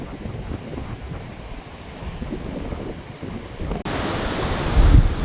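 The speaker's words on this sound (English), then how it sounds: "Very windy here" Wind buffets the microphone in rough, gusty rumbles by a river while riding a Honda Grom motorcycle, growing louder and harsher toward the end.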